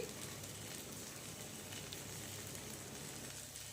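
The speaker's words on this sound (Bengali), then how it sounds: "এগুলো আমার ভালো করে ভাজা হতে থাক" Fish head pieces fry in hot oil in a kadai, giving a soft, steady sizzle that crackles evenly and quietly without pause.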